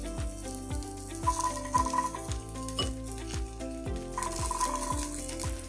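Carrots and peas stirred in hot ghee in a pan, with a steady sizzle broken by repeated scraping and clinking strokes of a spoon against the cookware, close and moderately loud.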